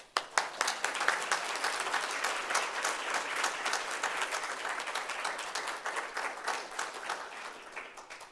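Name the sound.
audience applause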